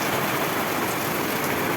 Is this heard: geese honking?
no